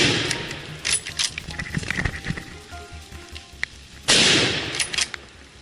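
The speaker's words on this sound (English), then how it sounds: "I took aim and fired." Rifle fired while hunting wild boar in woodland, a burst of sharp loud cracks and a heavy report near the end, mixed with rustling and scattered impacts, no talking.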